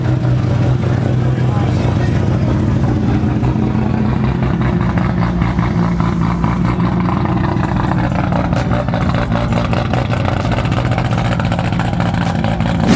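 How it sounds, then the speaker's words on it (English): Toyota Supra on a two-step launch limiter at a car meet, a loud sustained revving engine with sharp crackling pops and bangs throughout, voices talking faintly underneath. "This is actually the first time I'm hearing Black Widow Supra's two-step in person."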